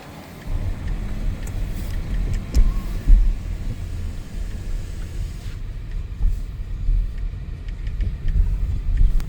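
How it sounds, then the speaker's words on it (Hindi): A car rolls into the vehicle deck of a large DFDS ferry to park, a steady low engine rumble with dull thumps and a hollow cavernous drone, close and continuous with no talk. "मेरी गाड़ी अब फेरी के अंदर इंटर हो रही है। कार पार्किंग करेंगे।"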